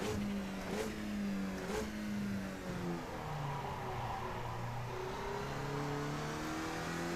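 A race car in the iRacing simulator revs hard, then the engine pitch drops in steps as the driver brakes and downshifts into a corner, sounding loud and close without talk.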